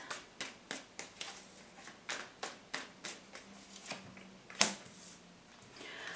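Tarot cards being shuffled, a quick regular run of soft card snaps about two per second, then one sharper slap as a card is drawn, quiet and close with no talk.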